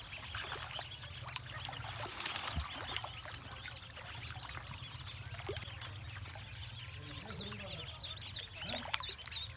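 Ducks bathing in water, soft splashing and trickling with occasional quacks, faint and continuous under a low background hum.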